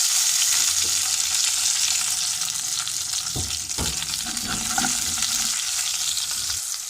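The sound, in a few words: coriander and chillies sizzling in hot ghee tadka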